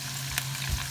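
Steady broadband sizzle of hot palm oil poured into okra stew, close and continuous, with a couple of soft clinks or bumps partway through.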